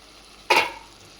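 A brief sizzling hiss as washed amaranth leaves hit a hot pan with turmeric, a single sharp burst of frying that quickly fades under a steady low background.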